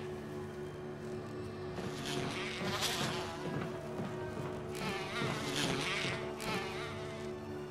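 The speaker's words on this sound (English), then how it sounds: "I got bees following me." Bees buzzing in the Resident Evil HD video game, a steady insect drone with a sustained hum underneath, swelling louder in waves as the swarm closes in.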